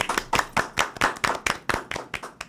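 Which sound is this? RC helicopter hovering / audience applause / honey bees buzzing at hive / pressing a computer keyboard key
audience applause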